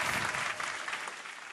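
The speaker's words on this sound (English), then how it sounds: "So huge round of applause for the school." Audience at a school annual day show breaks into dense, steady applause, many hands clapping together in a hall for the whole stretch with no talk.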